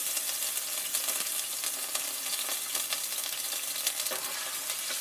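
Finely chopped ginger sizzles steadily in hot oil in a pan, a dense, even crackle with occasional louder pops and stirring scrapes.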